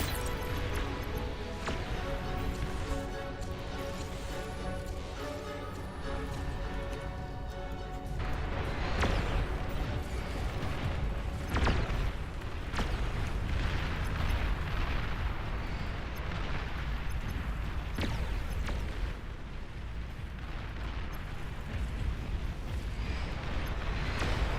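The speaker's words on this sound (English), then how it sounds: "We've got artillery on that high ground." Artillery fire pounds across a massive 16-versus-16 real-time strategy battle in Beyond All Reason. Deep, rumbling blasts and crashes overlap almost continuously at full loudness, with layered impacts and no pause.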